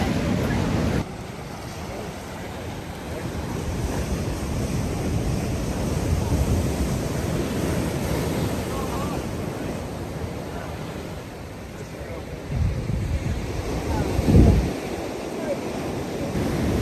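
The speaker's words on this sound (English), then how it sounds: "The tide comes in and out and washes the waves away." Ocean waves wash up and recede at a beach as the tide moves in and out, a continuous broad roar with wind buffeting the microphone, heavier surges near the end.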